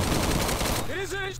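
Rapid gun firing in the Roblox game Recoil, a fast continuous burst of shots that cuts off partway through, after which someone speaks over the remaining game noise.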